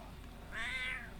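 A single drawn-out cat meow, fairly close and clear, rising and falling over about half a second against a quiet room background with no talking.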